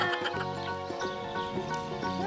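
A pony at a rare-breeds farm gives a quiet neigh with a wavering, harmonic whinny, heard from a little distance with faint background noise.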